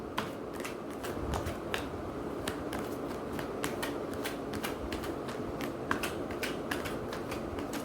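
Tarot cards are shuffled close up, giving a fast, irregular run of crisp riffling snaps and flutters over a soft steady background, with no talking.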